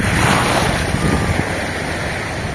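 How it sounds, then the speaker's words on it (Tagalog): Strong ocean waves at Isla Gigantes wash in a steady broadband roar, with wind buffeting the microphone throughout and no voices. "Ang lakas ng alon."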